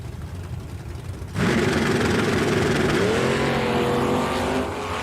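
Two drag race cars, a 1967 Camaro and a 1970 Charger, launch at a bracket race at Eddyville Raceway Park. A low idle bursts into a loud, sustained roar of engines revving up close, and no one speaks.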